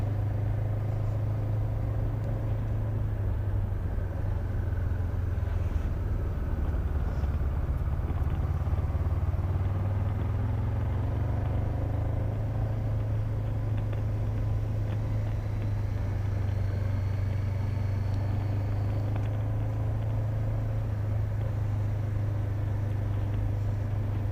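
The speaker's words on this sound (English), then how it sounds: "A bit of a glut of cars here." Cars and traffic rumble steadily along a road in Gran Canaria during a motorcycle road tour. A constant low engine drone runs throughout with no talk.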